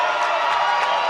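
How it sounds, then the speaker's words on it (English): A stadium crowd at a secondary school basketball semifinal between Rosmini College and New Plymouth Boys High School keeps up a steady roar of cheering, loud and continuous without a break. "you can hear the crowd making a noise"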